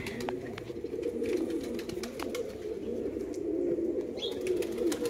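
Pigeons coo steadily in a loft in R.S. Pura, Jammu and Kashmir, a dense low murmur of overlapping calls that runs unbroken, with a few brief higher chirps and wing flutters scattered over it.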